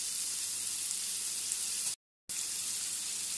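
Cauliflower and other gobi manchurian ingredients fry in a pan with a loud, even sizzle and steady hiss, broken by one brief silent gap; no talking.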